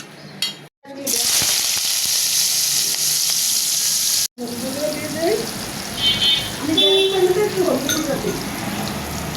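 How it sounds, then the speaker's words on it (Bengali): Sweet pumpkin fries in a wok with a loud, steady sizzle. It breaks off briefly, then scraping stirs and clinks of a utensil follow over continuing frying noise. "মিষ্টি ভাজা হয়ে গেছে কিন্তু একটু কাঁচা কাঁচা"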